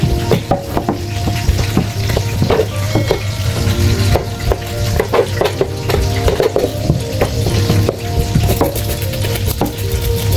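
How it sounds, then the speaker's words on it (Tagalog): Steady sizzling of fish frying in hot oil, with occasional clinks and stirring noises over the crackle, close and continuous. "Nagpiprito na tayo, naglilinis pa ng isda."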